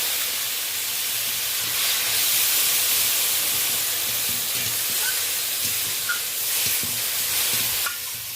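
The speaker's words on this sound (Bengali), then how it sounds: "এই পর্যায়ে আমি গ্রেট করা পেঁয়াজটা দিয়ে দেব" Grated onion frying in hot oil tempered with black cumin seeds, a steady broadband sizzle and hiss with occasional stirring clinks, close and continuous, no talking.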